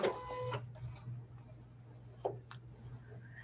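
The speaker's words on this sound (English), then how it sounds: "I'm going to open up my Cameo" A Silhouette Cameo cutting machine is opened with a brief mechanical whir and rattle up front. A low steady hum and a couple of small clicks follow.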